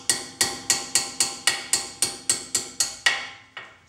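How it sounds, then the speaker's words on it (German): A small hammer taps on a brake caliper pin on the rear axle of a classic Mercedes with Teves calipers, giving ten evenly spaced sharp metallic knocks, each ringing briefly before the next. "Ich klopfe mit dem Hämmerle vorsichtig vorne auf die Blinde drauf und treibe die dann etwas nach hinten aus."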